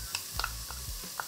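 A spoon stirs minced garlic and finely chopped shadon beni leaves in a pot, with a few soft clicks and scrapes against the pot over a low sizzle, no talking.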